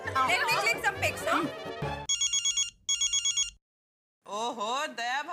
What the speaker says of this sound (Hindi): ओहो, दया भाभी, लगता है जेठा भाई का फोन है।